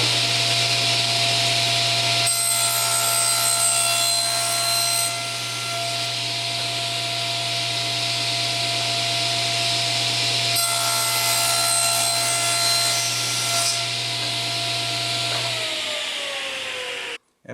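A table saw cuts wood pushed through on a crosscut sled while making a chess board: a steady loud motor whine with the blade biting into the workpiece twice, then the motor winds down at the end.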